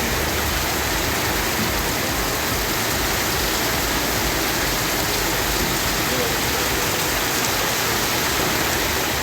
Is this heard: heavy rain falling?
yes